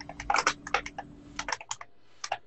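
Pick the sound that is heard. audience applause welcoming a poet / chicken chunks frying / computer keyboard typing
computer keyboard typing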